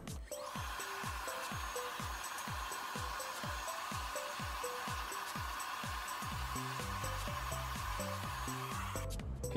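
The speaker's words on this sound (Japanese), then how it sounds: "ドライヤーを上からかけるんですけど、その際にちょっとここのボリュームを手で押さえながら乾かしていきます" A hair dryer blows steadily and close while hair is dried from above, its even whirring drone running almost unbroken, with light rhythmic handling sounds below it.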